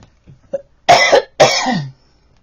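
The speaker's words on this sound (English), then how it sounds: "Hold on, I got a cough." Two harsh, close coughs in quick succession after a few faint throat sounds, then quiet.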